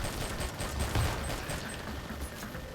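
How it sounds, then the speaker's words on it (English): Enemy minigun fire in the R.I.P.D. video game, a dense continuous rattle of shots mixed with other game noise, steady and fairly loud throughout. "This guy has a minigun."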